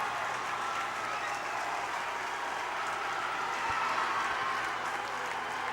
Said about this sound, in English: And the crowd for Cottage Grove goes crazy.